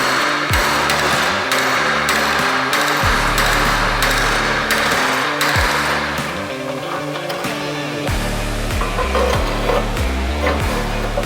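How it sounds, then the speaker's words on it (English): Repeated heavy hammer blows strike the steel teeth of a grading bucket, bending the metal cold; loud ringing whacks land in an irregular rhythm over steady background noise. "I'm just gonna give it a couple of whacks, see what happens."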